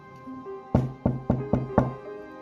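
Knocking on a wooden door as an audiobook sound effect, five firm raps in an even sequence, close and clear over a faint background tone.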